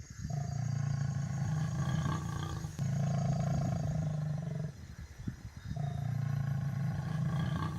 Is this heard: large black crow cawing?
no